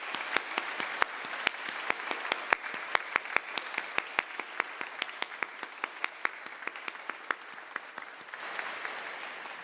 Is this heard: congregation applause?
yes